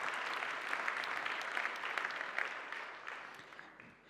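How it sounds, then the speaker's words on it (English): Conference audience applauding, a dense, sustained round of clapping from many hands in a hall that fades gradually toward the end. "Let's give a big round of applause to our friends at CADFEM for such a wonderful conference."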